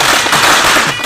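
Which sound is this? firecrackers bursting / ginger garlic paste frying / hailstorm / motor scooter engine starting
firecrackers bursting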